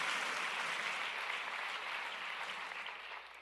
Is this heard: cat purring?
no